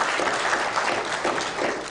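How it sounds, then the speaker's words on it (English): An assembled audience claps for nationally honoured teachers at a formal ceremony, a loud, continuous wash of applause filling the whole two seconds. "Please clap for these teachers."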